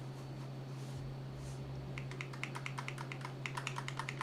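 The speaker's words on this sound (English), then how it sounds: "Decent click to the triggers." Triggers on a Logitech G Cloud handheld clicked repeatedly, a string of sharp, light plastic clicks in a fairly even rhythm, close up, over a low steady hum.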